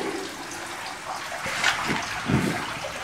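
Water holding live tubifex worms is poured out, splashing and gushing in uneven surges with two stronger pours near the end, close by and fairly loud.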